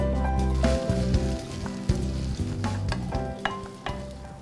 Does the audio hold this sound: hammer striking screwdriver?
no